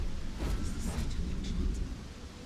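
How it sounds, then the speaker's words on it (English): Steady rain with low rumbling thunder fills a wet city street in the sci-fi game Starfield, a continuous close wash of downpour with deep rolling booms underneath and no voices. "I like the rain."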